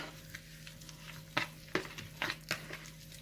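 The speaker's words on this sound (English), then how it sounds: "Stir that together to get it all well mixed." A spoon stirs caprese chicken salad with mozzarella cheese in a bowl, giving several soft scraping, clinking strokes over a faint steady hum, quiet and close with no talking.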